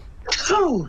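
A single quick sneeze, close and fairly loud, with a sharp burst followed by a voiced trailing sound.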